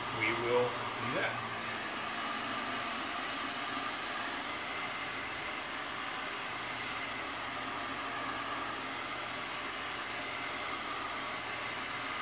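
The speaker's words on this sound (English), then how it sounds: "I've got to try to like work out now with the heat gun again" A heat gun blows steadily on the binding of a handmade guitar, a continuous broadband whoosh of hot air that holds level throughout after a brief knock at the start.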